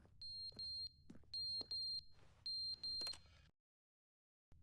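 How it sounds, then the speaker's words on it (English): Electronic beeps in short repeated bursts, sharp high tones coming in three clusters with a few clicks between them, then abrupt silence. "What's that beeping noise?"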